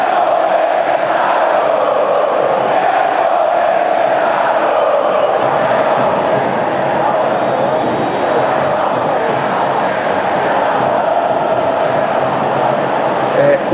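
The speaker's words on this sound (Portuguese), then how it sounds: "Vamos só escutar a torcida ontem," Flamengo football supporters chant together in a loud, dense, unbroken roar of many voices that holds steady from start to finish.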